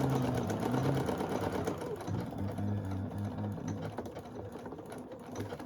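A sewing machine stitches very light fabric for a small table runner, a steady mechanical whirring with rhythmic needle chatter that runs continuously and close, slowing slightly in places.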